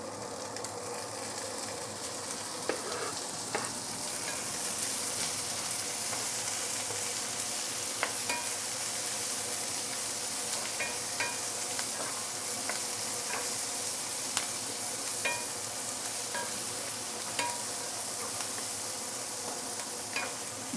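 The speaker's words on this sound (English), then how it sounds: "Next thing, you are going to add in the gai choy." Mustard greens (gai choy) stir-frying in rendered lap chong fat, a continuous loud sizzle with scattered spatula clicks and scrapes throughout, close by and with no talking.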